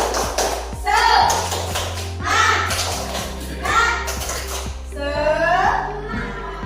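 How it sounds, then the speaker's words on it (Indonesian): A school class claps together in a quick rhythmic cheer pattern, several bursts of sharp claps with children's voices between them in a classroom. "Satu kali tepuk semangat."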